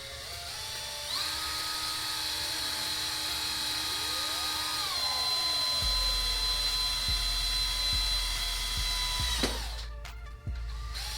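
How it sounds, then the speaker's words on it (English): A power drill whines steadily while drilling holes in a plastic kayak hull, its pitch rising and falling as it bites in, then stops, followed by a few short clicks. "So we drill the bigger one first"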